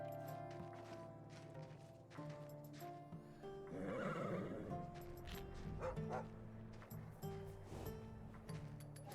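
A horse whinnies in the video game Skyrim, a faint drawn-out neigh with some clip-clop and game ambience around it.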